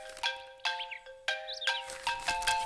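A telephone rings indoors in a home scene from a television drama, with a repeating electronic melodic ring in several bright bursts, clear and alone without voices.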